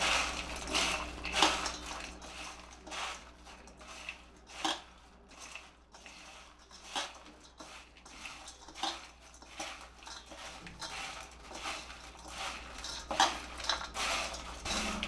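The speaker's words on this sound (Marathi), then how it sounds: "आणि अगदी पाव चमचा आमचूर पावडर घालणार आहे मी आणि हलक्या हाताने हे आपल्याला सगळं मिक्स करून घ्यायचं" Fasting-style spicy potato chivda gently tossed by hand with a pinch of dry mango powder in a bowl: steady soft rustling and crunching with light clinks of dishware, quiet and continuous, no talking.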